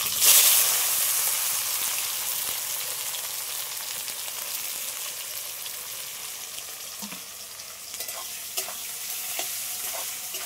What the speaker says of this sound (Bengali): এবার আমি পেঁয়াজগুলো একটু ভেজে নেব।